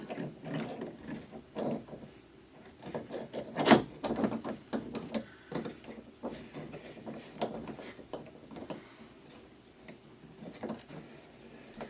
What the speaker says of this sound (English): So I've got my kick up rudder here attached already, and so I can just slide that in.